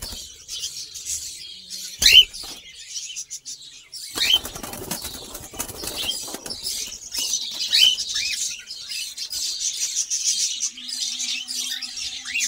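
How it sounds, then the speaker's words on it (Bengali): Colourful caged pet birds at a bird farm flutter their wings in sharp bursts and let out scattered high chirps and squawks, close by, with no one speaking. "এইসব পাখিগুলো কত সুন্দর কালারফুল পাখি আছে বন্ধুরা।"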